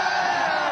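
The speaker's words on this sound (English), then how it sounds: "Wait, the crowd is yelling." A big crowd at an ALGS finals watch party yells and roars together in a dense, sustained wall of shouting, very brief and fairly loud.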